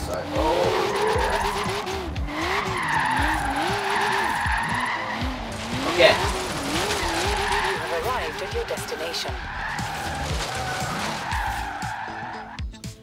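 Toyota AE86 twin-cam sliding in Forza Horizon 3, its engine revving up and down with steady tire squeal through long drifts; a person talks briefly over the car noise.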